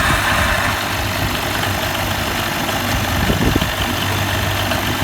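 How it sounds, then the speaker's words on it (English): Car engine idling steadily right after a blown-out spark plug hole was rethreaded and tapped, a continuous low rumble with even vibration held throughout, close and loud, no talking. "we are going to start the engine and test the engine"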